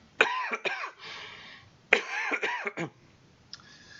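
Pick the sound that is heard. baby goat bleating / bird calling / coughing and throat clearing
coughing and throat clearing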